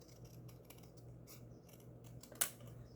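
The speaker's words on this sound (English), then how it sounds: "Then I'm going to use my big scissors," Long craft scissors snipping at a work mat, with faint rustling and then one sharp close cut that stands out near the end, no voices.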